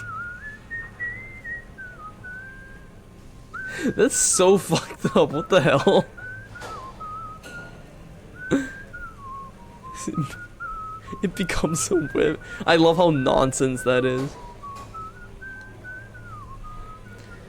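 Whistled rendition of Dixie from a character in the video game Shadows Over Loathing, a thin wavering melody running through the whole passage, partly masked by bursts of talk from players.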